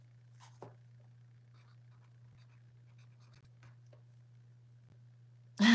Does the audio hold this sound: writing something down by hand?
yes